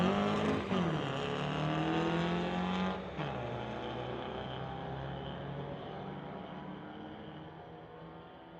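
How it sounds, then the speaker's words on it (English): A Volkswagen Bug and a BMW drag race at a Friday night street-legal event, engines roaring loudly at close range, with one engine shifting pitch and then a sustained, steady drone that slowly fades. "we've got a Volkswagen Bug versus a Beamer here at the Friday Night"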